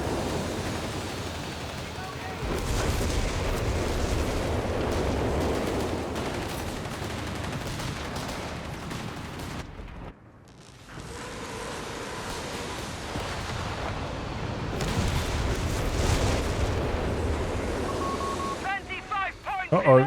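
In Company of Heroes 3 game audio, a dense artillery barrage of rolling booms and rumbling blasts plays over several seconds, with a brief lull before more explosions, and a voice talks throughout.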